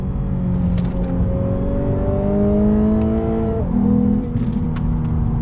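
A 2019 Lexus RC350 F-Sport engine heard from inside the car, a loud steady drone rising smoothly in pitch, then dropping sharply with a blip as it downshifts under braking.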